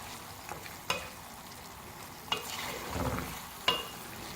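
Garlic chicken karahi being stirred in a pan, soft sizzling under a few sharp scrapes and clinks of the spoon against the metal, fairly quiet and close.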